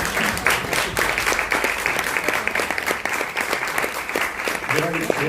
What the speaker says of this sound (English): I think you deserve an applause as well.